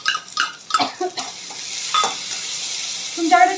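Finely chopped tomato frying with golden brown onion for homemade pasta, heard as loud close clatters and scrapes of stirring over a sizzling hiss, with no talk.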